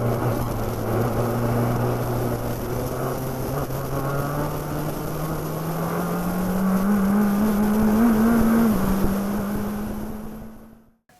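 A race car engine revs steadily upward during a street race restart in Toronto, a loud, continuous drone climbing in pitch over several seconds before cutting off abruptly at the end.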